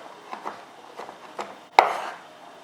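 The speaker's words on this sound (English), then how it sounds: "I am just finely dicing up the carrots" Knife finely dicing carrots on a cutting board: several soft, evenly spaced taps followed by one sharper, louder chop, close up and with no talk.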